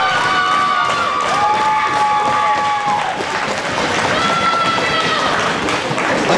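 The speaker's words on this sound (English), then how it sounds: "Fans here in Brownstown trying to fire this up." Wrestling crowd in Brownstown cheering and clapping, a dense wash of applause and shouts with a few whistles cutting through, steady and loud throughout.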